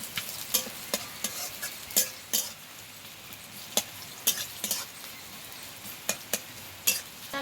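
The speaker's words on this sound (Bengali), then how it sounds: "এবার পেঁয়াজ আর কাঁচা লঙ্কাটাকে খুব ভালোভাবে আগে ভেজে নেব" Chopped onion and green chili fry in a pan, giving a steady soft sizzle broken by sharp metallic clinks and scrapes of a spoon stirring at irregular intervals, close and fairly quiet, with no talking.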